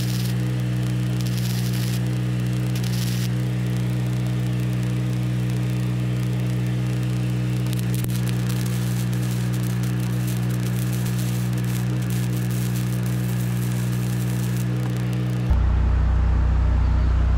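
Flux-core wire welding on a rusty 1960s Galion road grader under restoration: a steady crackling buzz over a strong electrical hum that runs continuously for about fifteen seconds, then stops abruptly.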